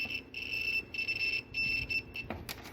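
A multimeter set to ohms gives its continuity beep as its two leads touch: a steady high-pitched tone repeating in several short and long pulses, near and fairly loud, with faint handling noise.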